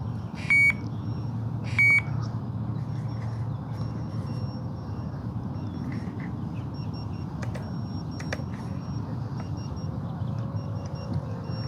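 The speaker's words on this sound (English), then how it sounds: "And the beeper's going like crazy." An Eachine Novice4 FPV drone's beeper chirps after losing its radio signal, a few short high beeps early and again later over a steady outdoor hum, faint and without talk.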